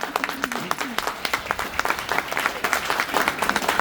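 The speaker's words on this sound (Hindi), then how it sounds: "तालियां बजा रहे हो, क्या कर रहे हो?" A seated audience at a motivational business talk claps in a lively, uneven patter of many hands with crisp separate strikes, and a voice briefly rises over the start.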